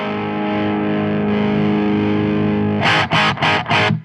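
Electric guitar through a Marshall JCM800 pedal set to the high-sensitivity input, a loud, gainy distorted chord ringing out, then several sharp chugged hits at the end.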